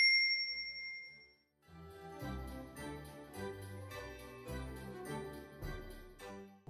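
A single bright notification ding rings out at the start and fades quickly, then rhythmic background music begins.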